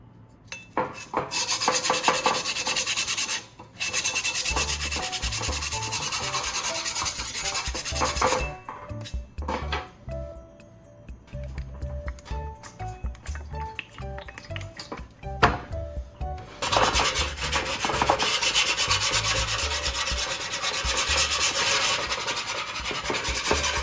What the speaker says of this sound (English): After sanding with the coarse grit side, it is clear that a significant amount of rust has been removed